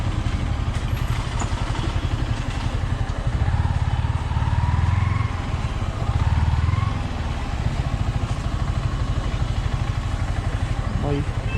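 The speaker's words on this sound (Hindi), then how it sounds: "तो अभी अपनी बाइक को लगाएंगे यहाँ पर" A motorcycle engine idles steadily and close by with a fast, even putter while it is parked on a mountain stop in Uttarakhand, with a slight rise in revs partway through.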